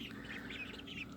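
Baby ducks on a small farm peep in a quick run of high, thin calls, close and fairly soft, over a steady low background hum.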